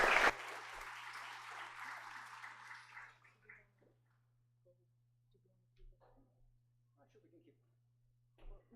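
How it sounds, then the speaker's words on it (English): Audience applause after a public astronomy talk, loud clapping from the room at the start that thins and fades within about three seconds, leaving near-silence with a few scattered faint claps and shuffles. "one more round of applause for Shifra"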